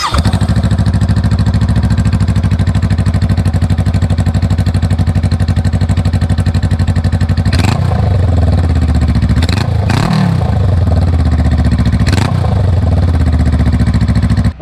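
A Honda Rebel 500 motorcycle running with no muffler gives a loud, harsh, steady idle throughout. Several sharp revs of the engine burst out in the second half.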